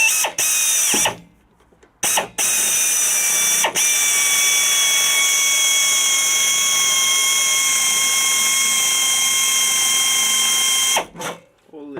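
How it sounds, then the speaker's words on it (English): A power drill bores a hole into a truck's metal body while a Hornblasters 540 horn kit is being installed, loud sustained whirring runs with brief stops and restarts, a long steady stretch of drilling, close by. "Let's drill a hole here, see what happens."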